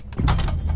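A short film scene transition carried by a door sound, a quick close thump with rattling texture lasting under a second, loud and up front.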